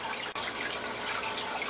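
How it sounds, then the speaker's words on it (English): Tap water runs steadily over a pH meter being rinsed at a sink, a continuous broad hiss of flowing water close by with no talking. "Make sure I rinse off that meter in the tap water here."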